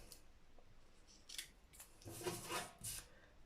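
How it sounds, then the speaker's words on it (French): Special tape-cutting scissors working through sticky tape, a few short crisp snips and slides that grow louder near the end, close up and without talk. "Et mon ciseau spécial scotch."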